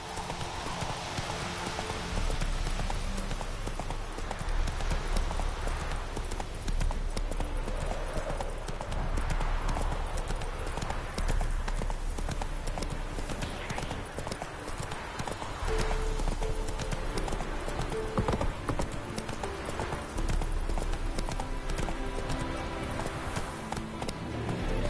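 Galloping horse hooves in The Witcher 3 video game, heard as a steady, loud clip-clop rhythm running continuously throughout, with occasional game ambience and a rider's voice briefly in the background.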